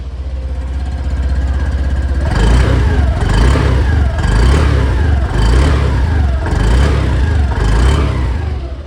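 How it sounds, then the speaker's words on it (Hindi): A 2025 Honda Activa 110 DLX scooter engine idles, then revs repeatedly in several rising and falling bursts, loud and close, with the exhaust droning steadily throughout. "अब आपको इसके इंजन और एग्जॉस्ट के साउंड को चेकआउट करा देते हैं"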